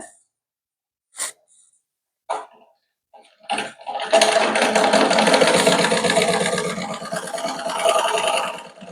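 After a few short clicks and handling noises, a sewing machine starts and runs continuously, stitching a straight seam along a blouse neckline, its close, loud motor humming for several seconds.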